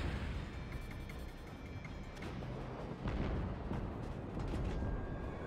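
Distant naval gunfire and shell impacts in World of Warships, a steady rumble of battle broken by several muffled booms as a battleship takes repeated hits.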